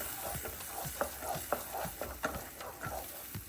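Onions fry in a pan for a prawn malai curry with a steady close sizzle. Rhythmic stirring scrapes repeat roughly every half second, with no voices.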